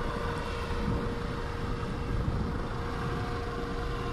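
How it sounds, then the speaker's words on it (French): The France 3 television helicopter passes overhead as a steady, broad rumbling drone, moderately loud and continuous outdoors with no talk over it. "C'est l'hélico de France 3 là."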